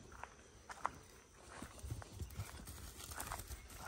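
A donkey walks with soft, uneven hoof clops on the ground, faint and fairly close, joined by a few low thuds.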